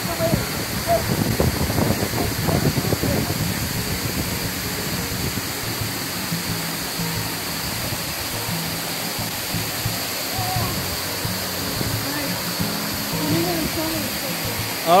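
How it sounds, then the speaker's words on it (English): Pearl Falls, a waterfall on Lantau Island near Mui Wo, Hong Kong, pours with a steady, dense broadband rush that holds constant throughout. Faint voices come through in the first few seconds. "All right, guys, this is your own private waterfall."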